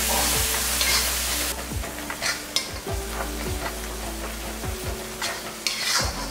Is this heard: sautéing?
yes